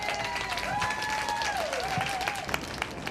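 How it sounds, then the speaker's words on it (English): An audience at an International Women's Day event gives a round of applause, steady dense clapping with voices and a tonal sound running through it. "So let's give them all a big round of applause."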